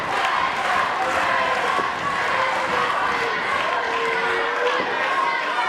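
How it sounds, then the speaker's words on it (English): An arena crowd at a wrestling show cheers and shouts loudly and continuously, a dense roar of many voices with some distinct yells rising out of it. "Crowd cheering in appreciation of an incredible display of wrestling acumen."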